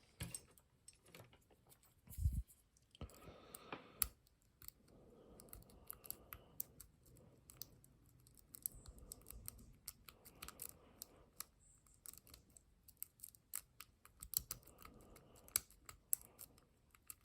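Snake rake lock pick scraping and clicking inside a vintage American Lockwood rim cylinder, quiet irregular metallic ticks and rasping strokes close up, with soft rattles between bursts.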